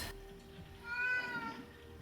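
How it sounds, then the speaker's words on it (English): A kitten's high, thin meow rises briefly in the middle of the clip over a quiet indoor background. "It is day 3 of Kitten crying"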